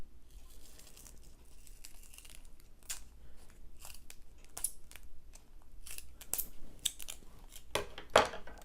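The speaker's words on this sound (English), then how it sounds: "We'll cut this in half again too." Scissors cut a sheet of paper in half for a card project: a series of short crisp snips and crinkles, sparse at first and then quicker and louder toward the end.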